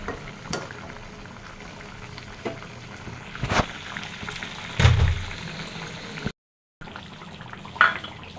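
Fish curry gravy bubbles and simmers in a pot on the stove, a steady close boil with a few clinks and splashes and a brief dropout near the end; no talk.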